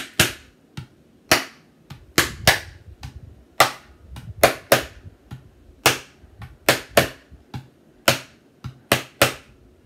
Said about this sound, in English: So again, I'm just hitting it on the bass, turning it this way so that you can see.